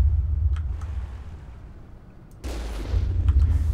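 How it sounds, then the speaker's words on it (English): Low, rumbling blasts of game cannon fire with a booming barrage near the end, over a steady low engine-like drone. "fire a few cannons through the door and then go down the corridor"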